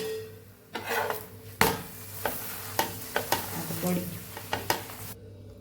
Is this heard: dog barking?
no